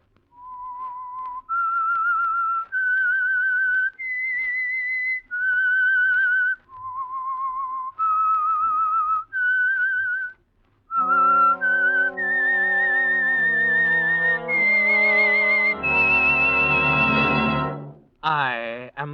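Clear, close human whistling of a melodic tune opening an old radio mystery program, a string of sustained notes with short pauses, followed by a fuller musical passage near the end.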